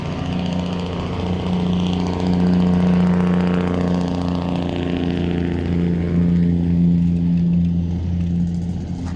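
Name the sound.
noisy truck engine passing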